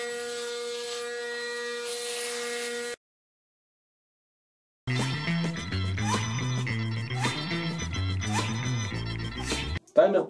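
A steady Panasonic electric foil shaver buzz hums for about three seconds while shaving a beard, then cuts off; after a pause, music takes over.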